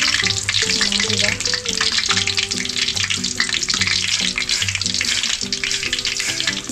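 A loud, steady sizzle of bananas frying in hot oil, crackling continuously throughout, with tuneful music playing underneath.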